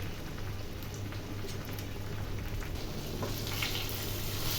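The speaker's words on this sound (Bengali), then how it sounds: "মাছগুলোকে এপিট ওপিট করে ভেজে নেব" Steady, quiet sizzling and crackling of mrigal fish frying in hot oil, continuous with no voices.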